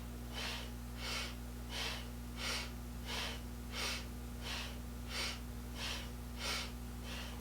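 Powerful rhythmic Kundalini yoga breathing, about eleven forceful breath bursts in steady succession, each a loud airy rush through the nose, close and alone over a constant low electrical hum.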